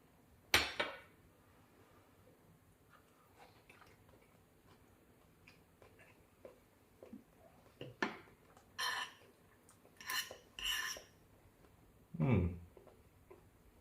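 Sausage meat gets broken up in a pan in an air fryer, giving scattered light clinks and scrapes of a utensil against metal, with louder clattering bursts toward the end and a voice now and then.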